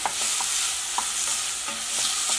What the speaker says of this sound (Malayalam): ഈ സവാളയൊക്കെ നന്നായിട്ടൊന്ന് വഴന്ന് വരണം.